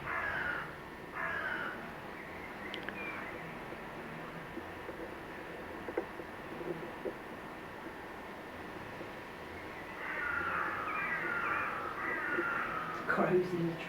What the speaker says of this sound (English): Crows in the tree.